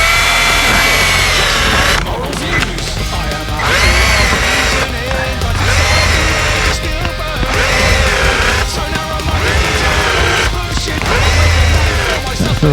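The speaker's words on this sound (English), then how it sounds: "I'm just going to put a screw in there to hold this floorboard in place" A cordless drill drives a screw into a car floorboard in a Firebird, whirring in several loud bursts separated by brief pauses, close up with steady background noise.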